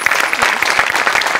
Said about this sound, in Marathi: मोठ्यांसाठी पण प्रचंड टाळ्या.